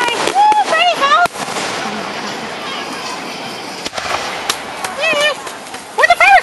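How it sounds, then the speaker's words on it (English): Fireworks bursting outdoors at a backyard party, crackling and popping across the whole stretch with several loud bangs, while people talk, shout and cheer over them. "Where'd the fireworks go?"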